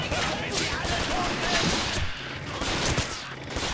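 Rifle and machine gun fire from Men of War Assault Squad 2, a dense, continuous fusillade of overlapping shots with a voice talking over much of the battle noise.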